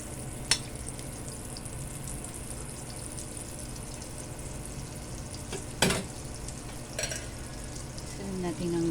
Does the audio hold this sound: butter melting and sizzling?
yes